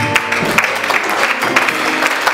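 A church congregation at a Sunday service claps and cheers, with a steady crowd patter of applause and scattered voices throughout.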